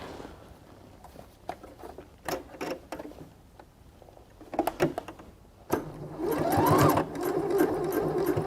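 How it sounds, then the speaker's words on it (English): A sewing machine stitches fabric in short bursts of rapid mechanical clatter, starting and stopping, then running steadily louder near the end, close up with no talk. "So once you start sewing, you back stitch because you want it to be tight and you don't want the stitches to pull out."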